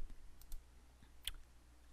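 A computer mouse is clicked during a Windows 10 update download from the Microsoft Update Catalog, giving a few faint, sharp clicks over a quiet room hiss with no talk.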